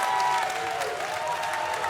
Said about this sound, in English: Artemis Spencer now getting a big ovation from this crowd